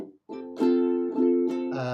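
A short sequence of strummed ukulele chords, each ringing out bright and close before the next change, played alone without talking.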